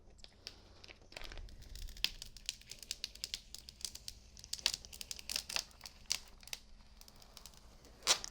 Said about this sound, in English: let's go ahead and remove our tape. And it should come up no problem.